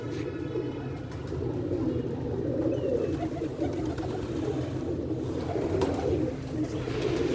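Captive pigeons coo softly and continuously at close range, low murmuring calls repeating over a quiet indoor background with no talking.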